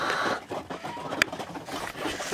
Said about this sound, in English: That's all the chickens eating.